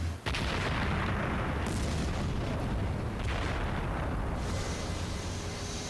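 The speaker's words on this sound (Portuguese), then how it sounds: "As explosões ocorrem dia e noite." Rock blasting for the construction of Dubai's artificial islands: a sharp blast onset followed by a sustained, roaring rumble of explosions, loud and continuous with further bursts.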